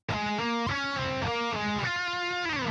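A distorted electric guitar plays a short, fast riff of sustained, gritty notes, loud and alone, ending on a held bend.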